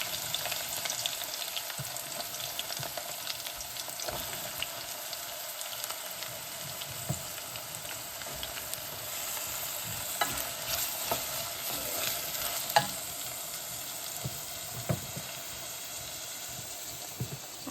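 Onion, garlic and panch phoron frying in hot oil, a constant close crackling sizzle with stirring scrapes throughout, no voices.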